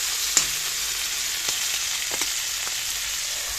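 Prawns frying gently in oil with a steady soft sizzle, a few faint clicks and light stirring knocks, close and quiet, no voices.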